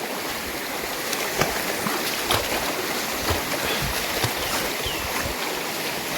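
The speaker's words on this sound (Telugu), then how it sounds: "చూస్తున్నారు కండి వాగైతే మంచిగా పడ్డది" A rain-swollen stream near a remote village rushes steadily in a broad, continuous wash of water noise with faint scattered splashes, heard up close and without speech.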